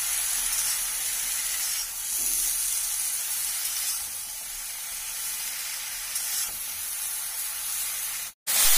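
Leafy greens with mustard paste sizzling in a hot pan while being stirred, a continuous close hiss and spatter running throughout with faint scrapes, ending in a short break and a handling bump.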